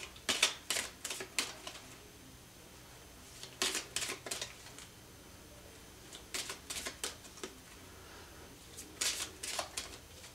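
Tarot cards shuffled and drawn, close crisp clusters of snapping card riffles in four separate bursts with quiet pauses between, no talking.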